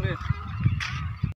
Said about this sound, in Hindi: और आ रहा है इधर, ढेर सारा देख सकते हो पक्षी।